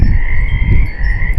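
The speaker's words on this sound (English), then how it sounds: "These frogs sound better than" Loud, close chorus of frogs croaking at a pond, a dense continuous trill with low rumbling underneath and a brief sharper burst at the end.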